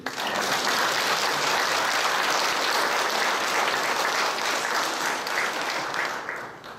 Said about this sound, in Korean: 저 같은 이럴 때 박수 한번 쳐줘요